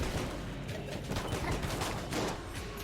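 Rapid overlapping shotgun blasts from a familiar companion in the roguelike shooter Enter the Gungeon, forming a dense, continuous barrage of gunfire with busy game effects throughout.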